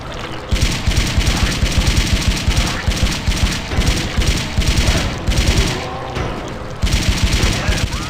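Sustained automatic assault rifle fire in the shooter game Blood II: The Chosen, loud rapid bursts repeating with short pauses, close and dominant throughout.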